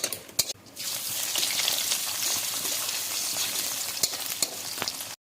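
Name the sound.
onions frying in mustard oil in a pan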